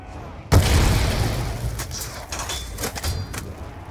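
A magic staff in Call of Duty Zombies on the Origins map fires into the ground, one loud boom with a rumbling tail followed by several fainter sharp shots and crackles.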